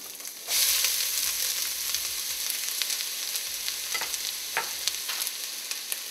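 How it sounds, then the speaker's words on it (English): Onions hit a pan of oil where mustard seeds have been popping, for a vegetable puff filling; a bright sizzle bursts in and continues steadily, broken by occasional stirring clicks. "The mustard seeds are popping, so now it's time to saute. Saute the onions"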